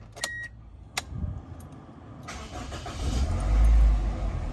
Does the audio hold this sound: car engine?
yes